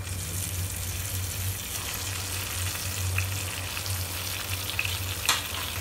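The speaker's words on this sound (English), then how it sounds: "Let them fry for a while." Eggplant (baingan) pieces fry in a pan with a steady, close crackling sizzle and a low hum underneath, plus a brief utensil clink near the end.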